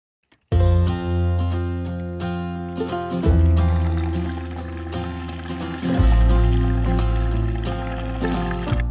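Water pours from a hose into the fresh-water tank of a Sprinter van, a steady, fairly loud trickling fill that runs continuously with slight shifts in pitch as the tank takes on water.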